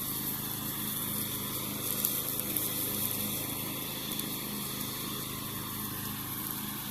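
A riding lawn mower drones steadily while mowing, a continuous moderately loud engine hum with a whining upper edge, unbroken and without voices.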